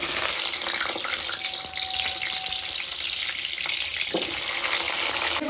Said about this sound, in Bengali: এইবার আমি পটলটাকে ভাজা নেব